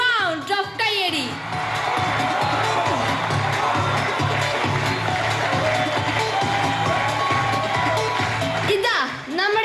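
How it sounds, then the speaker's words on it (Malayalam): An audience at an association gathering welcomes a guest with a sustained burst of applause and cheering. The dense crowd noise fills the middle of the clip, and a voice speaks briefly before and after it. "Let us have a big round of കയ്യടി."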